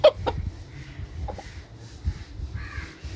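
Chickens clucking close by while being dewormed: a sharp squawk at the start, then scattered low clucks and short calls.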